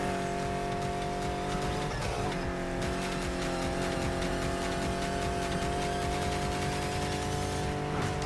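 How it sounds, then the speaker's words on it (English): A Porsche 911 RSR race car in the video game NFS Heat roars at full throttle with a loud, steady engine drone, tire squeal and a few sharp bursts, continuous throughout with no talking. "Porsche 911 RSR is NFS Heat greatest car by far"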